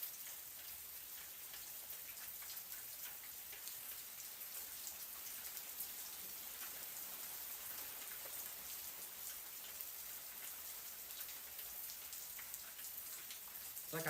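Heavy rain pouring onto concrete outside a front porch, a dense, steady hiss of splashing drops that stays loud and unbroken throughout.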